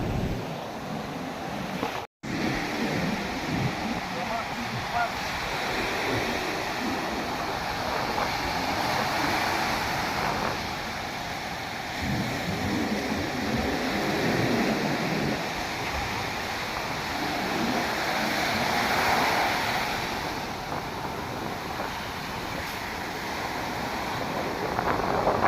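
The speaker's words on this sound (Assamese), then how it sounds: "ইয়াত ঢৌ উঠিছে কিন্তু দেই ফাৰ্ষ্ট টাইম এনেকৈ দেখিছোঁ ঢৌ উঠা" Heavy ocean waves break at ECR beach in Chennai, a continuous rough roar of surf mixed with gusty wind buffeting the microphone for the whole stretch, with one brief dropout near the start.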